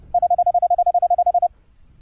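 A Morse code CW tone shaped by a software audio filter gives a clean, steady beeping of about fifteen evenly spaced short dits over a second and a half, then falls silent.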